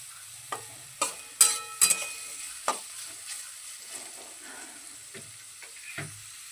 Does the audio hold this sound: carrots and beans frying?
yes